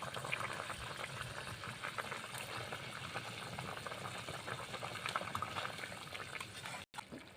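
A pot of moroliya greens, freshly salted, keeps up a continuous close bubbling boil, a dense watery churning that runs steadily with a brief dropout near the end.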